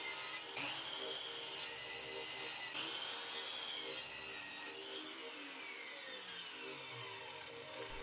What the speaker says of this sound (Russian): Далее выпиливаю все сначала на ленточной пиле, а затем торцую заготовки на торцовке.